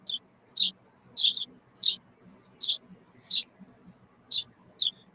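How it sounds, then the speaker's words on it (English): A bird calls over and over in rapid, evenly spaced bursts of bright, high chirps, frantic and fairly close, with a faint low murmur underneath. "Sounds like the bird is going berserk."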